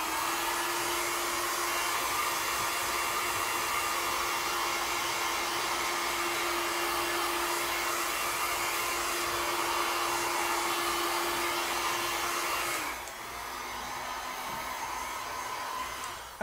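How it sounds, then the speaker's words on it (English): Hair dryer drying layers of metallic acrylic paint on black canvas, a loud steady whooshing roar with a whine that drops to a lower setting near the end, close and continuous. "I'm going to try to talk louder over the hairdryer."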